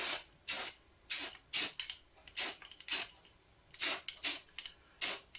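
Spray paint hisses in short bursts onto the underside of a red klunker bike frame, about ten close, sharp blasts in an irregular rhythm with brief silences between them.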